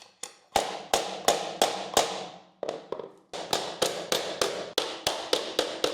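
Last piece of laminate flooring being tapped into place, a run of about fifteen sharp, loud, close knocks at a steady rhythm, with one short pause partway through.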